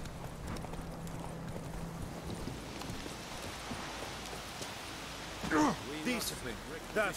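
Roach, the horse in The Witcher 3 video game, clip-clopping with steady, moderately close hoofbeats through a faint ambient bed, followed near the end by a few louder, sharper bursts that may be a brief whinny.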